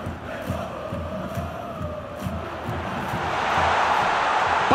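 A stadium crowd in PES 2021 keeps up a continuous roar with scattered shouts, swelling louder toward the end, as a commentator's voice runs over it.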